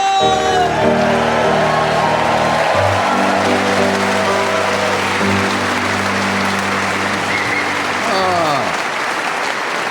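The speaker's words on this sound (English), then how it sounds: "all the audience here in Exeter clapping along" A large live audience at a BBC radio comedy recording in Exeter claps and cheers, the applause dense and loud, filling the whole stretch alongside a sustained sung or played tone, with a few whoops rising through it before it tails off.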